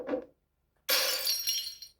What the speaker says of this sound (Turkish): Buradaki cam kırılmış.